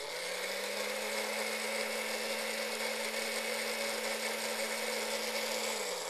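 Food processor whirring as it blends lemon juice and mayonnaise, one loud, even motor hum held for about five seconds before cutting off.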